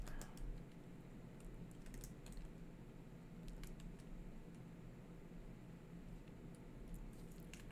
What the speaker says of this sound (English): I'll just type it first